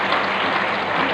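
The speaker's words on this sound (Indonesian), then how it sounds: "sekali lagi kita berikan aplaus kepada Pak Menteri" A hall crowd applauds the minister at an Indonesian national youth forum, a dense, steady roar of clapping that fills the short moment with no voice over it.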